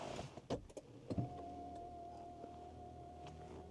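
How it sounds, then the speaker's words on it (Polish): Inside a 2016 Infiniti Q50s after the start button is pressed, the electric seat and steering column motors whir steadily for a couple of seconds after a few clicks and thumps, close and moderately loud, with no talking. "O, zobaczcie, teraz się dosunąłem, kierowniczka też się wyregulowała."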